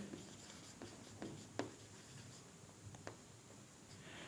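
Pen writing on paper during a Class 10 math lesson on linear equations, heard as faint, scattered scratchy strokes and taps over a quiet room hum.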